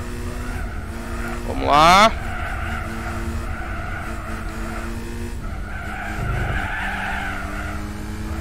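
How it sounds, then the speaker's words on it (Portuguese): Car engine in Gran Turismo 4 accelerating uphill in a French championship race: a continuous revving whine that climbs in pitch, a sharp tire squeal near the two-second mark and a second rise later, with someone speaking briefly over it. "Bora subir o morro. Bora acelerar nosso carrinho aqui."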